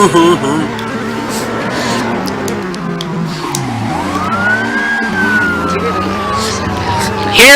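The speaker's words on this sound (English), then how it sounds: "sirens, but it's not police sirens. It's just an ambulance." An ambulance siren in the video game Midnight Club II wails in a rising and falling sweep over a busy mix of engine and game noise, with a voice talking underneath.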